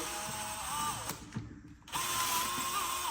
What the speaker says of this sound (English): you can use your drill to connect to it